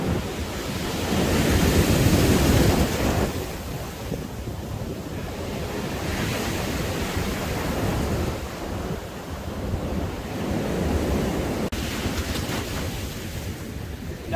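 Sea waves rolling onto the shore beside Blackpool promenade, a steady broadband surf roar with gusting wind buffeting the microphone, loudest in the opening seconds and continuing unbroken throughout.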